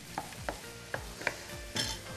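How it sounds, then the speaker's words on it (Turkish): Ingredients for Adapazarı-style pumpkin soup sauté in a pot, a soft steady sizzle broken by several scraping stirs of a spoon, close and fairly quiet, with no talking. "Güzelce kavurmaya devam ediyoruz."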